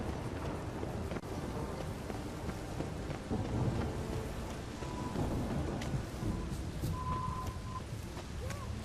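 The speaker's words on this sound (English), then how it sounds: "A storm, damn it." Thunder rumbles over steady heavy rain during a storm in The Witcher 3: Wild Hunt, a dense continuous wash of rainfall with low rolling booms, and voices occasionally talking in the background.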